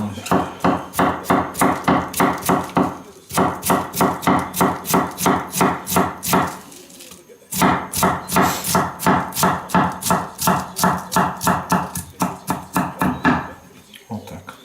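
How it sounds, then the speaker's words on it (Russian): Fast rhythmic chopping as cabbage is sliced thin with a stainless N690 steel kitchen knife on a board, two long runs of evenly spaced close knocks separated by a brief pause. "Капустку мы сейчас вот так будем резать."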